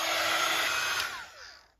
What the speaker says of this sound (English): So I'm going to take my heat gun now a minute and just give that a dry.